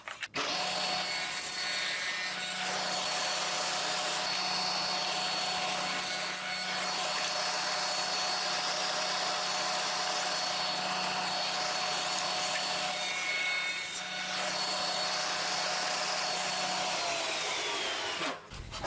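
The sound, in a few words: dado blade cutting tenons in cabinet door parts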